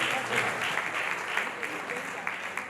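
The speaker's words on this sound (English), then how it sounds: "Round of applause for Alex." Audience applause at a nonprofit summit in Africa, steady dense clapping from a crowd filling the room, with some voices faintly mixed in under it.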